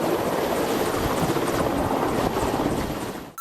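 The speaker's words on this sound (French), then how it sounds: "c'est l'hélico qui amène les gorilles" Helicopter flying in lowland gorillas, a steady loud rotor roar filling the whole stretch close by, cutting off abruptly at the end.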